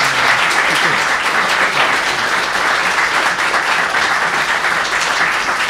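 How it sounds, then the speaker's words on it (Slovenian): A large lecture audience in Maribor applauds to welcome a speaker, dense sustained clapping that stays loud and even for nearly six seconds. "če lahko enkrat zaploskate in z aplauzom povabite gospoda Ishikawo"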